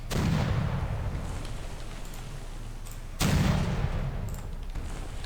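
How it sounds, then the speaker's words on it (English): Heavy naval guns at Midway firing in Victory at Sea Pacific, two deep booming blasts a few seconds apart, each followed by a long rumbling decay. "That's the Midway guns, I believe."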